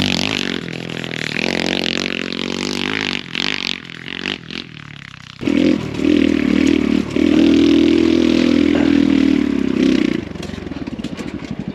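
An X Pro Storm 150 DLX ultralight dual sport motorcycle revs and accelerates on a dirt trail. The engine drone rises and falls loud and close, with clattering and scraping from the ride.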